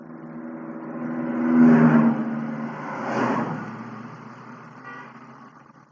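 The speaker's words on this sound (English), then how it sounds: "This is where the transmission is shifted from first to second gear." A car engine on a Speeduino ECU pulling at wide open throttle, revving up in first, dropping as the transmission shifts to second, then climbing again toward about 6,000 RPM, a rising engine drone heard alone.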